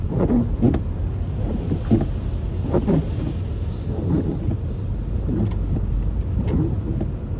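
A car in wintry road conditions in Sioux Falls rolls slowly onto the Interstate 29 on-ramp, its engine and tyre rumble a steady, low in-cabin drone with a few faint thumps and no talk.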